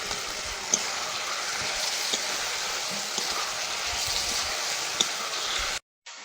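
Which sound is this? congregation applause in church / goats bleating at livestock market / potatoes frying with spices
potatoes frying with spices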